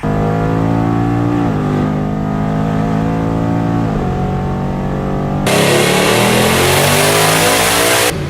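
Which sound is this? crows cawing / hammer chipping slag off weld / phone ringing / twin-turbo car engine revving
twin-turbo car engine revving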